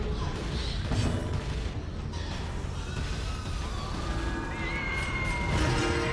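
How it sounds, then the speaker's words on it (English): Grotesque squealing creature noises in the dark of the Darkest Dungeon video game, snorting and shrill cries over a low rumbling ambience with scattered thuds. "You can hear all the pig noises in the dark."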